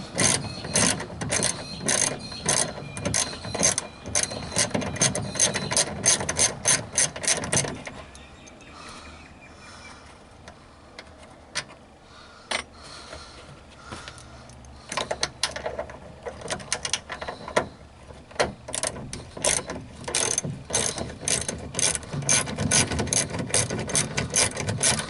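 A hand ratchet clicks rapidly and steadily while removing boot trim fasteners on a Toyota Celica RA40, loud and close, with a quieter pause of scattered clicks before the fast ratcheting resumes.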